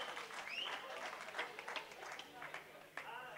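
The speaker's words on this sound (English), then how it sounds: "So give a big cheer. Mr. Alan Ledger and my old friend Jack Crooks. Big hand for them two guys." Audience at a rock'n'roll club gig in Bensham claps and cheers for the band's backroom crew, a moderate burst of applause with whoops and overlapping voices, heard from within the crowd.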